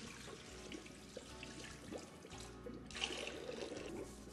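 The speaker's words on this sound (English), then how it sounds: "Next, pour 2 gallons of cool, clean water into the mix hopper." Cool, clean water pours into the mix hopper of a soft-serve machine, a faint, steady splashing gush that swells slightly toward the end.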